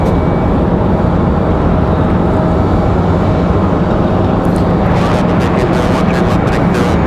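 A CRJ regional jet moves through Raleigh-Durham International Airport with a loud, constant engine roar that fills the whole stretch. A voice talks over the noise.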